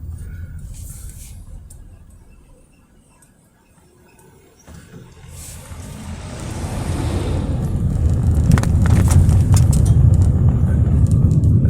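A 2021 Honda Grace Hybrid EX pulls away on a road, its low engine and tyre rumble building steadily louder over several seconds into a strong, continuous roar heard from inside the cabin.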